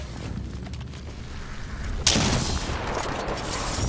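Rapid gunfire in a first-person shooter video game, a lighter spatter of shots that turns into a sudden loud, dense burst partway through and carries on to the end.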